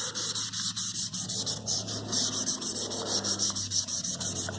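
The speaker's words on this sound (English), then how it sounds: "We lightly, ever so lightly, rub it with 2000 grit sandpaper for the last etch." A hand-forged Damascus knife blade is lightly rubbed with 2000 grit sandpaper, making rapid, even back-and-forth scratchy strokes that repeat rhythmically throughout, close and moderately loud over a low steady hum.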